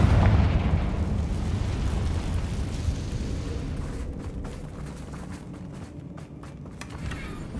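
A Confringo fire spell explodes in the video game Hogwarts Legacy, a loud booming burst at the start that rolls into a long fading rumble, followed by scattered debris crackles and faint pops.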